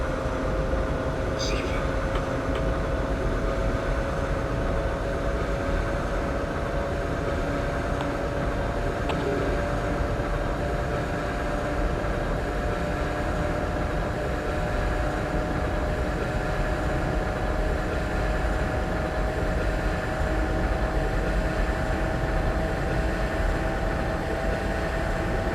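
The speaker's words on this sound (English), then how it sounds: "the train is now accelerating back up towards that" ICE 2 high-speed train accelerating in Train Simulator 2017 on the Berlin to Leipzig route, with a loud, steady electric traction whine and constant rolling rumble that hold for the whole stretch.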